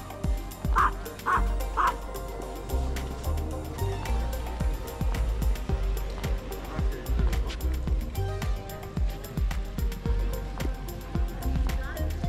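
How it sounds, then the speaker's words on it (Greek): A small dog barks furiously in repeated sharp yaps on a walk through an old town, mixed with people talking and street noise. "μικρός ο σκύλος, τόσο πιο έξαλλος."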